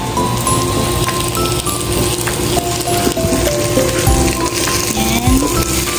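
Milkfish frying in a pan gives a loud, steady, dense sizzle and crackle that lasts throughout with no talk.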